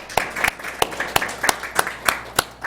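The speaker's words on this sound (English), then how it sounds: "Let's give them a round of applause." A small group applauds at a school board meeting, with individual claps standing out in a loose, uneven rhythm at moderate volume and no voices over them.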